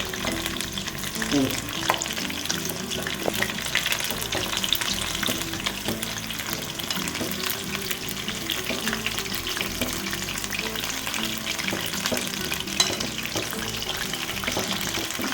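Chicken lollipops deep-frying in oil over low-medium heat, a dense continuous sizzle and bubbling crackle, close and even throughout, with occasional faint stirring clinks.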